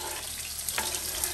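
Vegetables sizzle steadily in a hot pot, a close, continuous crackling hiss with small pops.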